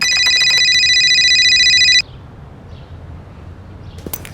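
A telephone rings loudly and steadily with an incoming call for about two seconds, a bright electronic trill, then cuts off abruptly, leaving a quiet room with faint background noise and a brief click near the end.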